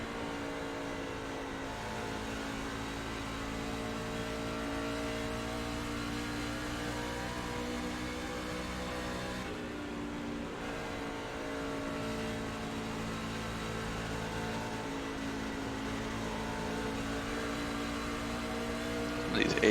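Truck engines race in heavy, mixed traffic at Dover in the iRacing game, a steady drone of many engines with layered harmonic tones that holds throughout and builds slightly near the end; talk runs over it.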